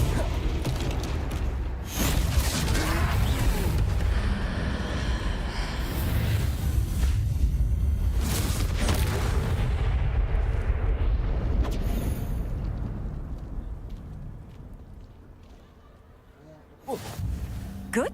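Confringo fire spell explosion in the Hogwarts Legacy video game, a loud sustained blast with roaring, whooshing bursts over about fifteen seconds that slowly fade, ending in a sharp pop.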